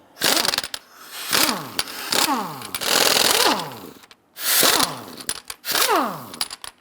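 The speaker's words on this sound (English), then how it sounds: "Using a 22mm socket, loosen and remove the lug nuts." A 22mm socket on an impact tool loosening and removing lug nuts on a 2011-2021 Jeep Grand Cherokee, heard as several loud, close bursts of whirring and rattling, each rising and falling in pitch, with short gaps between them.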